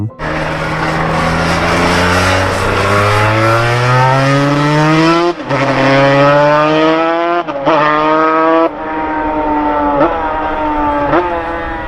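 A racing two-stroke motorcycle engine revs hard and loud, its pitch climbing in long sweeps broken by abrupt drops at each gear change, alone without speech.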